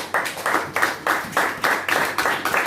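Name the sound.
congregation applauding in church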